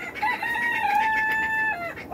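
A rooster crows in one clear, loud, drawn-out call with some hen clucking close by in a backyard flock on a cold, wet day.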